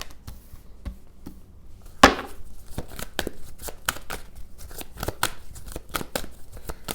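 Tarot cards are shuffled by hand, producing a rapid series of crisp papery riffles and slaps with a louder snap near the start, close up and alone.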